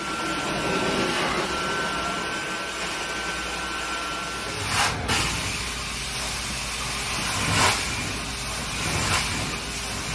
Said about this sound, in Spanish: queremos coger una aspiradora y limpiar la habitación de arriba a abajo